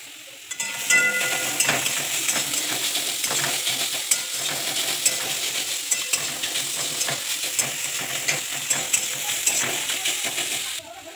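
Squeezed grated radish fries in a wok over a mustard seed and dried chilli tempering for mulo chechki, a constant close sizzle broken by repeated scraping stir strokes, with no talking.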